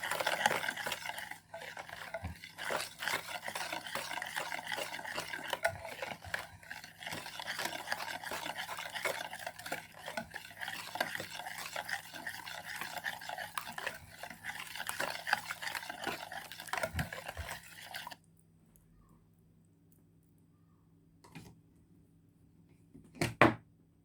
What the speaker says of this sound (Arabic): نقلب بقى كده كل المقادير مع بعض